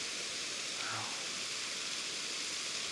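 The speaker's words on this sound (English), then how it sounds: "Look at the water running down over here." Ice-cold water running down near a waterfall in Alaska, a steady broad hiss and rush of flowing water that holds even throughout, moderately distant with no clear voices over it.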